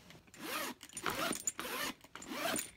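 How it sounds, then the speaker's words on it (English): The zipper on a Rebecca Minkoff Morning After leather handbag is pulled up close, several quick rasping strokes in a row with short pauses between them. "watch this zipper."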